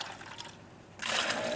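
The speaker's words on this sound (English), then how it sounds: "so I'm guessing the amount of water to put in" Water gushes from a container into a bucket for a mortar mix used in pointing stonework. A softer trickle gives way to a steady, louder pour partway through, heard close up and without speech.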